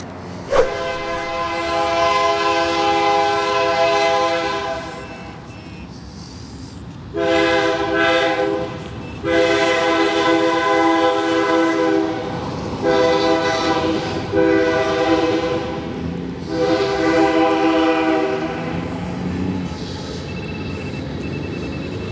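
A passing train sounds its horn in long, loud, repeated blasts over the rumble of rolling railcars, close by and alone without talk.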